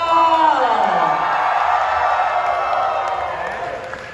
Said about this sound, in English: Y'all keep clapping!